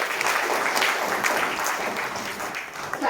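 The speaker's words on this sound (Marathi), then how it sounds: "त्यासाठी खूप टाळ्या झाल्या." A crowd at an award ceremony in Chiplun gives sustained, dense applause, many hands clapping steadily at moderate distance for the whole stretch.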